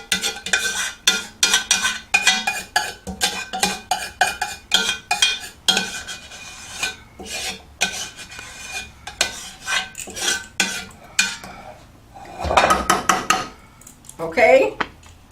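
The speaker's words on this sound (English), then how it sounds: "We paid for it, so we're gonna get it all out of the pan" Lobster tail mixture scraped out of a pan with a utensil, in a long run of quick, sharp metallic scrapes and clinks that come in uneven bursts, with a brief louder rattle near the end.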